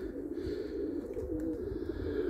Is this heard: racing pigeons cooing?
yes